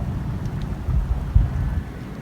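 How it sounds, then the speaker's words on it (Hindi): Heavy rain pouring down in a strong windy storm, a dense close roar with deep rumbling thunder swelling in the middle. "बहुत जम के बारिश हो रही है"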